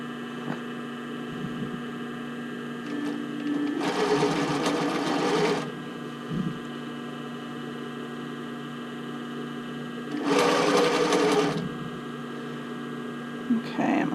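A sewing machine stitches a sailor shirt along a crease in two distinct bursts, each a couple of seconds long, over a steady low hum. There are quiet pauses between the runs.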